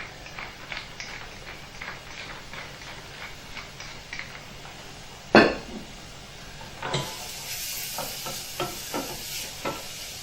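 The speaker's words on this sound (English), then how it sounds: "And it's sweating, so we're not looking for a sizzling sound, we're looking for a light sweating without colour" Finely chopped onion sweats gently in a pan with a soft, low crackle, stirred with a steady rhythm of scraping strokes, one sharp knock partway through and a slightly brighter hiss afterward.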